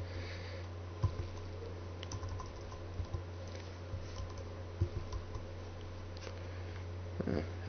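Quiet, irregular keyboard typing with scattered key clicks over a steady low hum, sparse and hesitant rather than a fast continuous rhythm.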